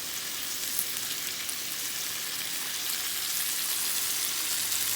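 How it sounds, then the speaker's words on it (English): Beef chuck coated in dry rub frying in a stew pot, a steady dense sizzle with crackling pops that holds even and close for the whole stretch, no voices. "Now you're just going to let this cook until all the meat is cooked all the way through"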